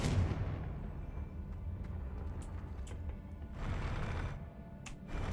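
Confringo blast spell cast in a Hogwarts wizarding video game, heard as a dense rumbling explosive wash with repeated bursts and a stronger swell near the end, loud and continuous without pauses.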